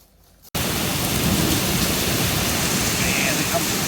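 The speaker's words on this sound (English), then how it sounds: "Rain's in the air. That is a lot of water." Heavy rain bursts in suddenly after a brief quiet moment and keeps pouring as a loud, dense, steady roar, with no break through the rest of the stretch.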